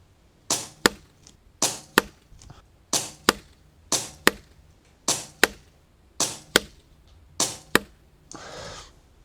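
Sub-12 ft-lb air rifle firing a group of shots at a 50-yard target outdoors: eight evenly spaced sharp cracks, each followed quickly by a fainter distant thud of the pellet striking, with a soft rustle at the end.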